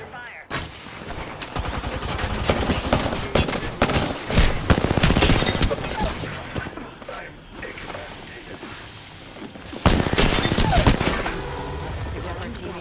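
Video game gunfire crackles in rapid bursts, with dense automatic volleys and single sharp shots close by, surging loudest in clusters and then easing before another heavy burst.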